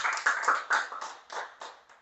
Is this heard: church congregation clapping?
yes